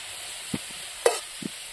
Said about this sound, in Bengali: আলুগুলো ভাজা হয়ে গেছে, আমি এখন নামিয়ে নিচ্ছি